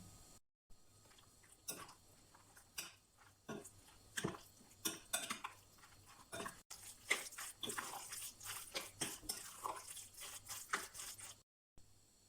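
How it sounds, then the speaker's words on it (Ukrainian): Minced chicken and mushroom mixture with paprika being stirred in a bowl, with soft irregular wet squelches and scraping taps repeating close and quietly. "І перемішуємо все до однорідності."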